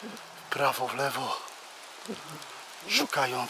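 Rain falls steadily through a forest during mushroom picking, a soft continuous patter heard close around, with people talking over it.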